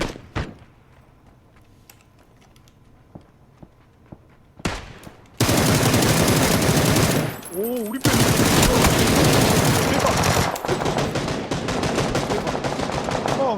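Dense automatic gunfire in the PUBG battle royale game erupts after a quiet stretch of scattered shots and keyboard clicks, loud and sustained, with players talking over it.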